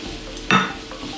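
Mushrooms hit a hot pan and burst into a sizzle, with one quick scrape of a stir, then the sizzle fades back to a low frying hiss.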